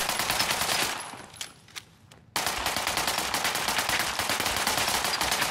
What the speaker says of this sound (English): Short hunting rifle.